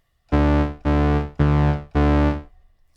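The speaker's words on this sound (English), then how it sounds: "a simple Alchemy patch, and it's just two oscillators that are separated by an octave" Four sustained synth notes, each about half a second, with a bright buzzy tone from two layered oscillators an octave apart in a simple Logic Pro X Alchemy patch, played evenly one after another.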